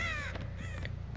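Crows caw repeatedly in the Dead By Daylight game, harsh calls sounding close over a low rumbling game ambience.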